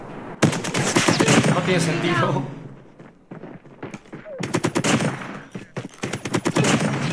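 Rapid bursts of DRH rifle fire in Call of Duty Mobile, loud and near, in several long volleys separated by brief pauses, with someone talking excitedly over and between the shots.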